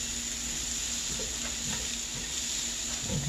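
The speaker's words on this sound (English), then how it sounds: "So we're going to stir fry our vegetables." Vegetables stir-fry in a hot buttered pan, sizzling steadily and close up with a constant frying hiss and a few soft scrapes of stirring.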